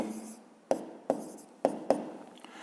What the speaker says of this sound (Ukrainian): Пишемо обчислення.